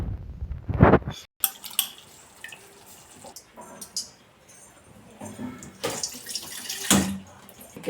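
Water is poured from a vessel into a pan of tamarind curry with egg, heard as short, splashy gushes and trickles at close range, separated by quieter handling noises.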